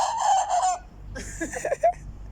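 A rooster crows nearby, a long drawn-out call followed by a choppier second crow with rising notes, loud and clear with no talking.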